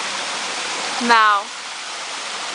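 Waterfall at Cachoeira do Mindim, a steady, close, broadband rush of falling water throughout, with a brief voice speaking over it midway.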